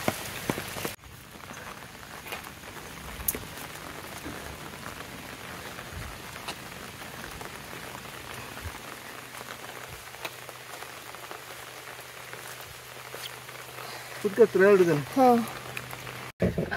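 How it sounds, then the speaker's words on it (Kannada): Steady rain falls in a quiet, soft patter that holds throughout at low volume; a faint voice-like sound briefly rises near the end. "ಈ ಸಲ ಏನು ಮಳೆನೋ"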